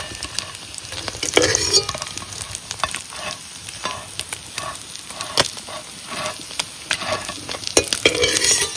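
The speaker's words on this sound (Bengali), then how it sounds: "মাছ ভাজা হয়ে গেছে, এখন তুলে নেব" Silver carp pieces frying in hot oil, giving a loud, steady crackling sizzle with dense bursts of popping and a few stirring scrapes, heard close up with no talking.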